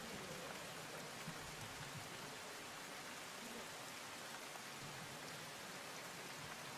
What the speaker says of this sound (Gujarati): ખેડા જિલ્લાના કપડવંજમાં મુશળધાર વરસાદ પડ્યો